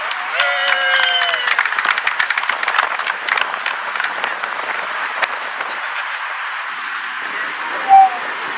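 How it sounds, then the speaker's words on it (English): Audience applause at a gathering against child abuse in Liverpool, clapping swelling and then fading over several seconds, with a voice speaking over the start and a brief sharp tone near the end. "Give him a big round of applause."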